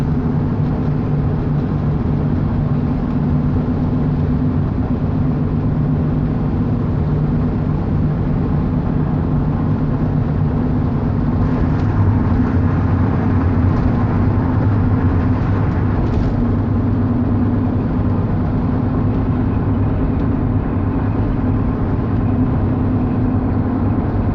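A propane delivery truck drives along a country road toward Burgaw, North Carolina, a steady, loud engine and road drone heard from inside the cab, continuous and unchanging throughout with no talking.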